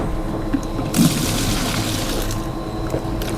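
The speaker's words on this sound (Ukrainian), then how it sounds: "перше відерце нам краще відчерпати таким ось чином" A bucket scoops liquid pig feed on a Danish pig farm, giving a steady, loud wash of sloshing and trickling liquid with a brief splashier surge partway through.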